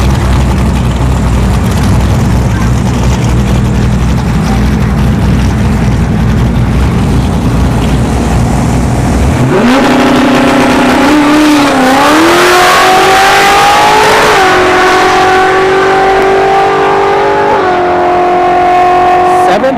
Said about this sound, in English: Nitrous Fox body there in the left lane, going up against the Pontiac Grand Am.